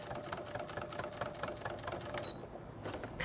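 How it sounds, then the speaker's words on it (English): A sewing machine runs steadily while stitching small quilt block pieces for a cat quilt block, giving a continuous mechanical whirr with a rapid rhythmic needle patter at close range and no talking. "So just take your time, line it up, and stitch."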